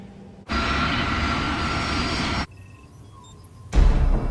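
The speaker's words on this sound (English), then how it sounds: "As the aircraft approach the runway" A Crossair passenger airliner on approach to Zurich Airport at night gives a loud, steady engine roar that cuts off abruptly, followed by a quieter hum and then a renewed burst of rumbling noise.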